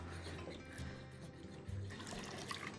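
Water poured into a bowl of dough batter for a leek and cheese pispili, a steady trickling pour with light splashing, fairly close and moderately quiet, without talk.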